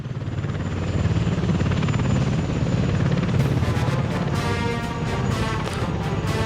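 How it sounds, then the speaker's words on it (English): A helicopter in the Soviet city-building game Workers & Resources: Soviet Republic, a loud, steady rotor and engine roar that holds throughout without a break. "they get carried away with a helicopter to work"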